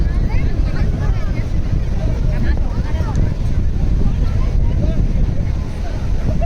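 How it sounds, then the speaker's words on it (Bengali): Cold sea breeze on Puri beach, heard as steady, loud wind rush buffeting the microphone, blended with broad surf-like roar and faint distant voices throughout. "দারুণ সুন্দর একটা ঠান্ডা ঠান্ডা হাওয়া।"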